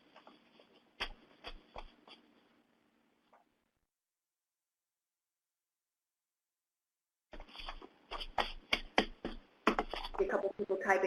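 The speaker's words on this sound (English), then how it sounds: "A couple people typing, so I'm just pausing for a moment." Several people typing on computer keyboards during an online meeting, bursts of quick clicks at the start, then a long silent gap, then denser overlapping keystrokes returning and building toward the end, fairly faint.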